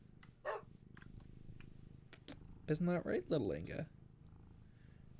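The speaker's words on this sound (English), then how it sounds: "She's got the loudest purr." A cat purrs steadily in the background at low level, while a person talks close to the microphone over it.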